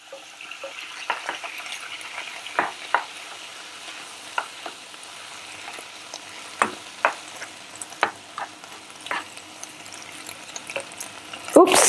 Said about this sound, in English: we can add in the tomatoes. And I'm going to add some of the crushed tomatoes